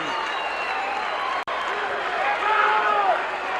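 Wrestling arena crowd at a 1984 Butch Reed versus Tito Santana match, a steady loud roar of jeering that swells slightly near the end, with a commentator talking over it.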